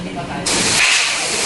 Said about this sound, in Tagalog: Tinesting din ang sprinkler system sa mga banyo.